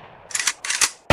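Cartoonish gunshots ring out at a shooting range in the Kick the Buddy 2 video game: three sharp bursts, the last loudest and closest, with no one speaking.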